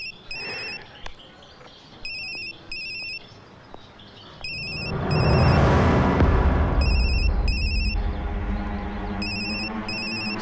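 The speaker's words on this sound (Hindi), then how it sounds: "आपका फोन बज रहा है, उठाएंगे नहीं?" A phone ringtone repeats in short electronic bursts through the scene of a romantic drama film, with a swelling burst of ambient noise rising in the middle while the ringing continues.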